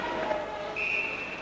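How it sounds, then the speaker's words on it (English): Referee's icing whistle at a 1985 Scottish Cup Final ice hockey game between Fife Flyers and Dundee Rockets: a single steady high whistle blast of under a second, moderately loud over arena murmur. "it is an icing whistle"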